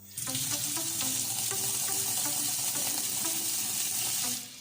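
Water running into a kitchen sink clogged with cooking oil, a steady close splashing stream with gurgling, bubbly pops as it pools and drains slowly, stopping near the end.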